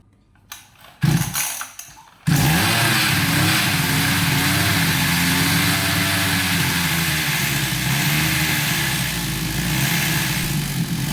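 A mini two-stroke motorbike engine kicks over with a couple of sputtering attempts, then catches and runs loud and close at a raised, revving speed, buzzing and wavering rather than settling to idle.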